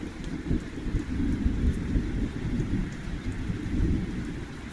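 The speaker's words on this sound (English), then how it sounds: "So I can make myself feel like I'm in the middle of the storm." Steady rain pours down with deep rolling thunder rumbling throughout, a continuous storm with no voices.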